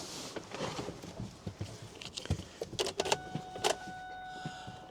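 A used family car bought at a Copart salvage auction turns over and fires up, a busy run of short mechanical clatters and whirs at close range, with scattered rattles and no voices.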